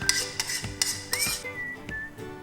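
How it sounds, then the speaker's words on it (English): Crumbled paneer and fried vegetables stirred in a pan for paneer bhurji, a spoon scraping and clinking against the metal in repeated strokes, close and fairly loud with no talk. "Mix it nicely so that both the paneer and the fried vegetables are all nice and mixed."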